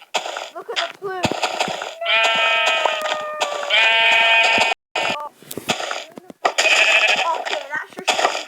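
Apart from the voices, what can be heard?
sheep bleating in a video game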